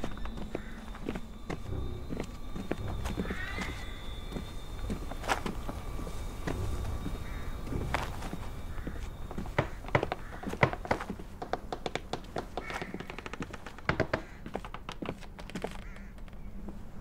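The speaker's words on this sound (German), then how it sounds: "Ich höre Schritte." Footsteps in the horror game Through the Woods, set in Norway, a rapid run of crunching steps growing busier toward the end over a steady ambient hum, without any talking.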